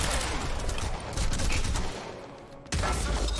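Enemy gunfire in Quantum Break, a dense burst of rapid shots rattling close for a few seconds, a brief lull, then firing resumes, with no talk.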